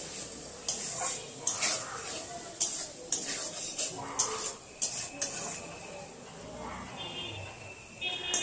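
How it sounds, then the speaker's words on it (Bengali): Potatoes frying with spices in a pan, stirred with a metal spoon that scrapes and taps the pan in irregular strokes over a steady sizzle, close and fairly loud. "মশলার সাথে আলুটা কিন্তু আমি পুরো খুব ভালো করে নাড়িয়ে কষিয়ে নিলাম"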